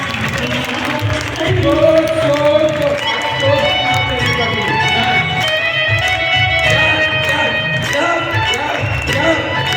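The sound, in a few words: audience clapping and cheering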